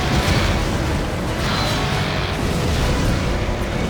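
Continuous rumbling explosions in the Stuntman Ignition driving game, a loud, dense roar of booming blasts with no clear gaps, close and filling the whole stretch.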